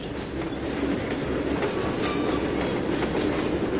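A locomotive in the Trainz 2019 simulator accelerates with a close, steady rail rumble, rhythmic wheel clatter and faint squealing throughout.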